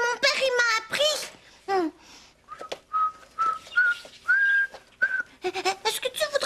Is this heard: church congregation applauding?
no